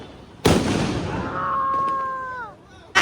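A Diwali firecracker bursts with a sharp, loud bang close by, followed by a drawn-out voiced cry, then the start of another blast at the very end.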